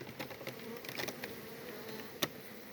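A steady, fairly faint buzz of honeybees in flight during a January cleansing flight, with a few sharp taps and clicks scattered through it.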